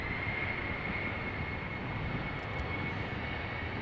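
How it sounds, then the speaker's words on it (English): A Cargolux Boeing 747 cargo jet lines up for departure at Amsterdam Schiphol airport, a steady distant engine rumble with a faint high whine, continuous and moderately quiet. "the Cargolux is now lining up behind the ITA Airways that is on the threshold"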